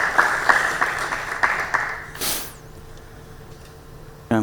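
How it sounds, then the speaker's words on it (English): Conference attendees at a credit-and-sales panel applaud as the panelists are welcomed to the stage, a few seconds of crisp clapping that quickly dies away into quiet room noise. "So a round of applause for our"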